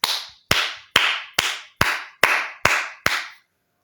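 A congregation claps in unison for Jesus: eight sharp, loud, ringing claps in a steady rhythm, each with a short echoing tail, and no cheering audible.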